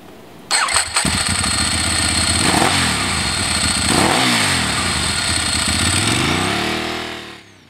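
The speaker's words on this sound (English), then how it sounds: "the 1198 makes quite a racket at standstill through its twin underseat exhausts" A Ducati 1198 V-twin motorcycle engine starts and runs loud and close through twin underseat exhausts, with a rough idle clattering from its dry clutch and a couple of throttle blips, then winds down.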